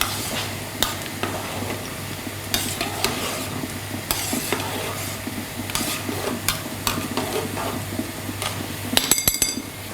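Ukrainian vareniki dumplings cook in a pan, with a steady hiss and low hum beneath frequent spoon clicks and stirring scrapes, ending in a quick rattle of metal taps.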